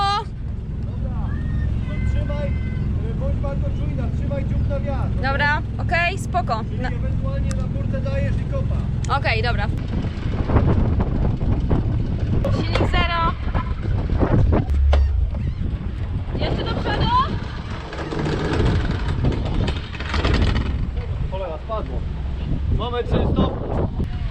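A boat engine rumbles steadily at sea under heavy wind buffeting the microphone, while people talk over it throughout.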